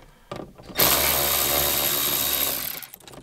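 A power driver whirs loudly for about two seconds, backing T20 Torx screws out of the interior trim of a Volkswagen MKV GTI during headliner repair, with a spin-up and a fade at the end.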